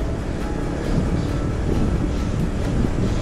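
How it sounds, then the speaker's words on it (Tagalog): Strong headwind buffets a cyclist riding a countryside loop before rain, a steady loud rumbling gust with faint periodic ticks, no voices heard. "Kaya pala lakas na ng hangin."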